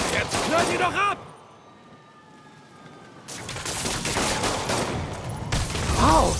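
Rapid bursts of gunfire in the video game Marvel's Spider-Man crackle loudly, pause briefly, then resume in a chaotic barrage mixed with voices.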